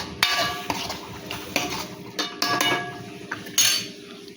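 A spoon repeatedly clanks and scrapes against a pan as ginger, green chili, garlic and tomato paste are stirred for chana curry, with irregular metallic knocks over a low frying murmur and no talking.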